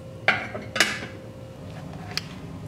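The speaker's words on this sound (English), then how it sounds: "So now I'll put my lid back on." A lid set back onto a cooking pot while chicken boils for a homemade chicken pot pie, giving two sharp metallic clanks close by, then a fainter clink in a quiet kitchen.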